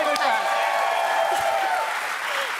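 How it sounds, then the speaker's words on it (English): An audience breaks into applause, a dense burst of many hands clapping that starts strong and slowly thins out over a couple of seconds, with voices and chatter mixed in. "That deserves a clap."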